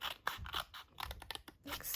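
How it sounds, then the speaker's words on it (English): Scissors snipping a triangle out of layered paper card stock, a close, quiet series of short crisp cuts and crunches with brief pauses between them. "I'm going to take my scissors and just cut out that triangle,"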